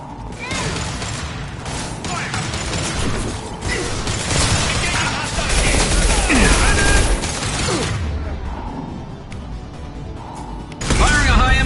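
Continuous combat gunfire in the video game Mass Effect 2, where a high-impact shot is fired: sustained rattling bursts and mechanical clatter, loud and close, with shouted voices mixed in over the fighting.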